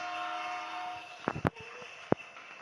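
A train rumbles past in the mobile shooter game Bullet Echo, a steady tonal drone with a few sharp clanks and a brief horn-like burst near the end, fairly faint and with no talk.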